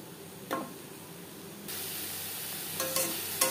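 Soybean chunks seasoned with salt and turmeric fry in a pan, giving a faint steady sizzle that thickens midway, with a few sharp stirring clicks and scrapes near the end.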